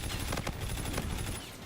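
Rapid bursts of automatic gunfire from hip firing in the video game Call of Duty: Infinite Warfare crackle close and loud in a quick stuttering string lasting under two seconds.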